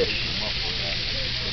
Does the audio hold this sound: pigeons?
no